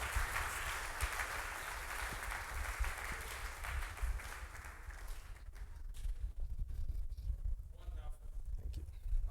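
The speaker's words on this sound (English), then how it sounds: "you can clap for the Lord" An audience clapping for the Lord, a dense crowd of hands making a steady roar that thins toward the end, with a voice audible beneath it.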